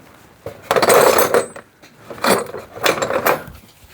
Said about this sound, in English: That's 4 spark plugs.